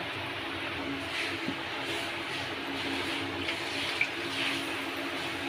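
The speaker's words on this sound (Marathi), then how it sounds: "आणि आता आपण याच्यात पाणी टाकून घेऊ" Water is poured into frying masala for a paneer and cashew gravy, a steady soft pouring and sizzling wash that runs evenly throughout without talk.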